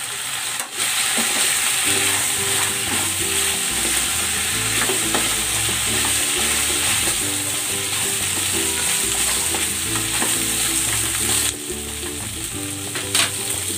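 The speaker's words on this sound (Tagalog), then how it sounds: "Babalik ko na dito yung pork." Pork ribs frying and being stirred in a pan with tomato paste, a loud, close, steady sizzle with clattering stir strokes throughout and no talk.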